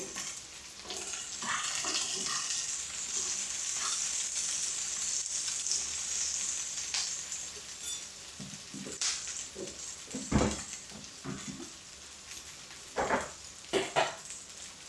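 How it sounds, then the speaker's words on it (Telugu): Capsicum pieces sizzle loudly in hot oil in a pan while cooking chilli paneer, a steady close crackling hiss with a few clanks and scrapes of a stirring spoon toward the end, and no voices. "క్యాప్సికమ్ ముక్కలు కూడా వేసేసానండి."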